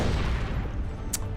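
A Predator's las cannon fires during a Dawn of War II: Retribution battle, layered over a continuous dense roar of combat with rumbling blasts and one sharp, bright crack near the end.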